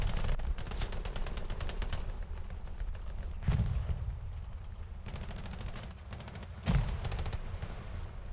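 A machine gun chatters in rapid, continuous bursts during an online shooter match set in Sainte-Mère-Église. Heavier booming explosions land twice under a steady backdrop of battle noise.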